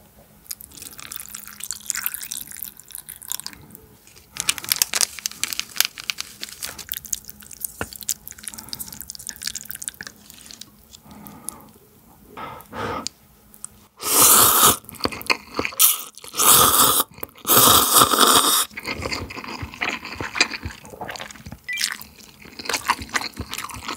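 Mul-ramyeon, a ramen cooked with anchovy kalguksu broth, gochujang, sugar, chili flakes and fishcake, is eaten close to the mic with wet slurps, drips and chewing. Long loud slurping bursts come in the middle, and no one speaks.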